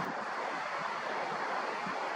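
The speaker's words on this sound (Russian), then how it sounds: "Ух ты, какой ветер" Strong evening wind buffeting a microphone outdoors in Kharkiv, a broad steady rush with soft gusty swells and no voices, continuous and fairly close throughout.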